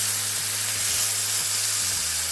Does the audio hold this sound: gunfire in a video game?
no